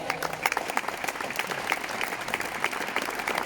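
Audience at a D.AI.SY presentation in Budapest claps steadily, a dense, even patter of many hands filling the room without a break.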